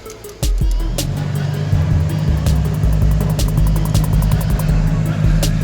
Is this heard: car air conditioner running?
yes